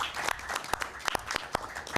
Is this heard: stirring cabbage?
no